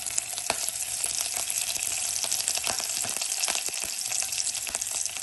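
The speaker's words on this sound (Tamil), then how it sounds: "இப்போ தாளிக்க போகிறோம்." Steady crackling sizzle of spices and curry leaves tempering in hot oil, dense and continuous with sharp pops scattered throughout, close up.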